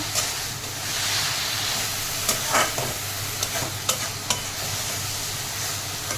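Banana flower curry frying in a pan while it is stirred, with water added: a steady sizzle runs throughout, broken by several sharp scrapes and clatters of the spoon against the pan.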